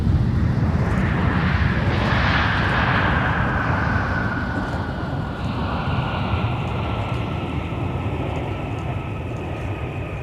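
A fixed-wing airliner lands at MSP Airport, its broad engine roar loud and steady across the whole stretch, with a slowly falling whine as it rolls out.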